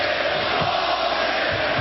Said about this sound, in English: Crowd not agreeing with the officials' calls.